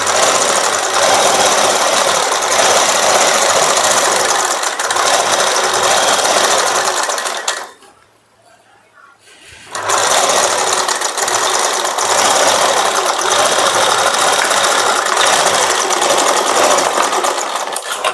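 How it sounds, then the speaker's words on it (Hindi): A sewing machine runs steadily while stitching the hem of a blouse, a loud, close mechanical whir with rapid rhythmic needle clatter. It stops briefly for about two seconds midway, then resumes at the same pace. "तो सबसे पहले मैं नीचे का सिल ले रही हूँ"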